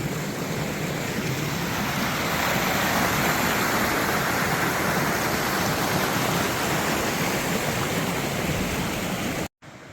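Clear stream water flowing steadily in the backcountry along the Continental Divide Trail, a loud, continuous close rush and babble that holds even throughout before cutting off at the very end.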